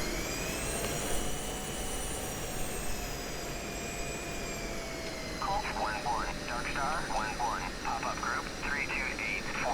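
An F-16 Viper jet engine roars steadily at takeoff in the DCS flight simulator game, with a continuous whine and rumble throughout and radio-style speech chatter over it in the second half.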